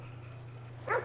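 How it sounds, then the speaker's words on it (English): A single short dog bark or yip from a puppy in the video game Ghostwire: Tokyo, a brief burst near the end over a steady low hum. "I was petting a dog!"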